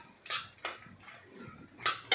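Almonds and cashews being sautéed in a pan, heard as a few sharp metallic scrapes and clinks of a spoon against the pan, spaced irregularly over a quiet background.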